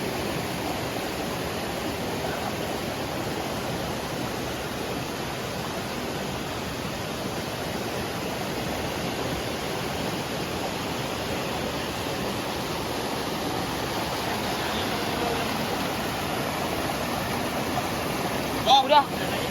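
A flowing river in the jungle on a trek to Curug Cisadane, a steady, loud broadband rush of water close by that runs unbroken throughout.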